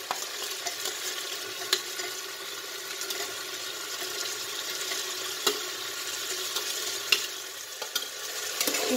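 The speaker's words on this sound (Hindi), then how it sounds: "शिमला मिर्च के साथ भी हम इसको भून लेंगे।" Capsicum and onions stir-frying over a high flame for chilli chicken, giving a steady hiss and sizzle with soft scrapes and occasional clinks of a spatula against the pan.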